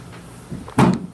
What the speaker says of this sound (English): Joe, close the back door, please.